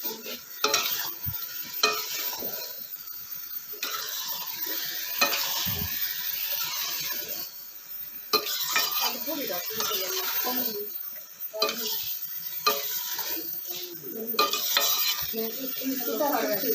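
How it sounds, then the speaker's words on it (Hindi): Hot rice for chicken pulao being mixed in a pot, a steady scraping and stirring with utensil clinks against the metal over a soft sizzle, continuous and close, no talking. "इसको मिक्स कर लेंगे।"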